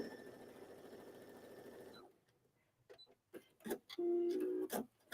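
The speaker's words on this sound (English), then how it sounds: "we're going to go ahead and stitch that" A sewing machine hums steadily as it stitches a seam, then stops, followed by a few quiet handling clicks and a brief whir of the machine near the end.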